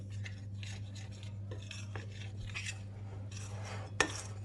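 Flour and water bread dough being mixed in a bowl, a soft steady scraping and sloshing with a few sharp clinks of utensil against the bowl, close and fairly quiet with no talk.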